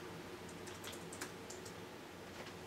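Keystrokes on a computer keyboard typing a command at a command prompt, a quiet run of light clicks at a steady pace over a constant background hiss.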